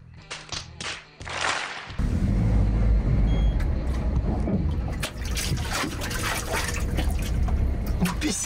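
Water pours and gushes out of a flooded Mercedes car in a loud, steady stream, with splashing over the top. Before the flow begins there are a few brief handling noises.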